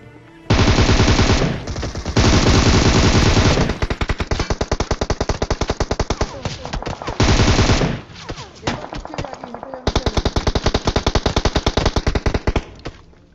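Automatic weapon fire in a battle royale video game: rapid bursts of loud, sharp shots, some long sustained strings and others choppy, separated by brief gaps, with no voices over them.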